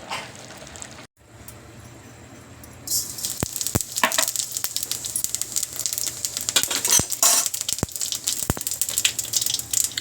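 Rice frying in a cumin tempering inside a clay pot for chicken biryani: a quiet start gives way to a steady close sizzle, broken by sharp clinks of a spoon against the pot.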